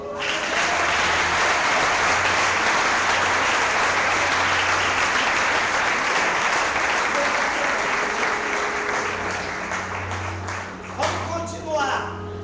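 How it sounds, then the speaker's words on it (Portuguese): Loud, sustained applause from a church congregation during a family-campaign service, with dense clapping filling the room and easing off slightly toward the end. "Vamos aplaudir ao Senhor."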